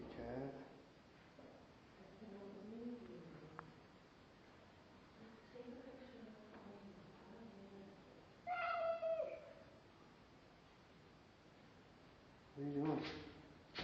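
A cat that has killed rabbits meows a few times, with two clear, drawn-out meows standing out amid softer vocal sounds; the calls are close and moderately loud, and a person may be speaking faintly.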